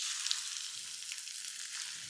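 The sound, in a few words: onion frying in oil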